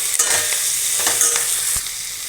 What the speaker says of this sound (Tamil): வெங்காயம் போட்டுக்கிறேன். வெங்காயம் வதங்கினோன்னே தக்காளி போடுறேன்.